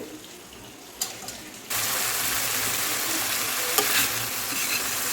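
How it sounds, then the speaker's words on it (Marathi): Green chillies fry in a spiced masala for a mild yogurt chilli dish, a quiet clatter of stirring before a steady, close, loud sizzle takes over and holds to the end. "मस्त आपली मिरची फ्राय होते"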